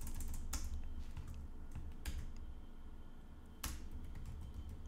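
Quick keystrokes on a computer keyboard while text is entered in 3D software, with several sharp clicks and short bursts of typing over a steady low room hum.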